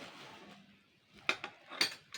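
Metal spoons bought at a fair are handled, giving two or three light, quiet clinks against a soft background.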